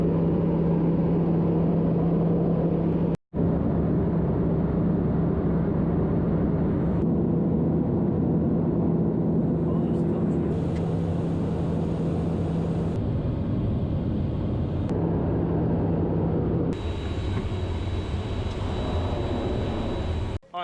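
A passenger airplane takes off, giving a continuous loud, rumbling roar that stays steady throughout and is heard from inside or near the aircraft, with no talking.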